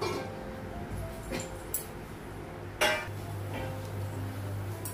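A metal pot lid is handled in a home kitchen, giving a few sharp clinks and knocks over a steady low hum of cooking, with a louder clank near the middle.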